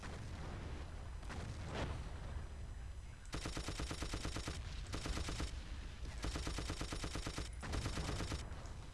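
Sustained bursts of automatic gunfire in the World War II shooter Battlefield 1942, several long rattling volleys with brief pauses between them over a low rumbling battlefield background.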